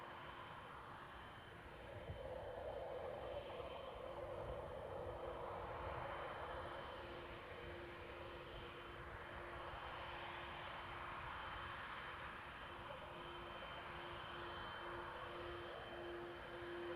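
An airliner in Turkish retro livery at Amsterdam Schiphol Airport produces a steady, broad engine roar. The sound is moderately loud and continuous, and no one speaks.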